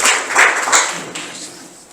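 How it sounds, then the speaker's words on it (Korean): An audience applauds to welcome a presenter at a Korean labor-movement memorial debate forum, a dense steady burst of hand claps filling the room for the whole moment. "박수로 환영해 주시기 바랍니다."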